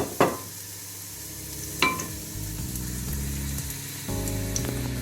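Chopped onion going into a pan for chicken stir fry, with sharp impacts near the start and around two seconds, then a steady close frying sizzle with low clattering and no talk.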